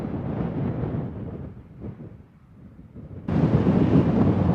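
Strong gusts of wind buffet the microphone on an exposed mountainside along a long-distance hiking trail, a loud broadband rush that eases briefly midway and then surges harder and steadier toward the end, with no talking.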